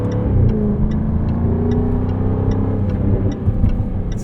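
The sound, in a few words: Jaguar F-Type R75 V8 exhaust burbles while driving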